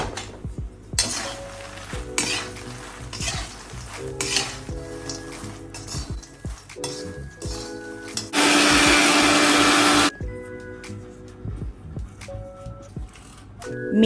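A kitchen grinder runs loud and steady for about two seconds, grinding roasted fenugreek (methi) seeds, set amid clattering pans, stirring and sizzling from ladoo cooking.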